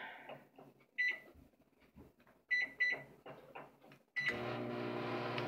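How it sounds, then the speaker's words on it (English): A microwave oven heating frozen spaghetti and meat sauce, with a few sharp beeps from button presses followed by a steady, even hum as it starts running. "let's go ahead and put it in the microwave"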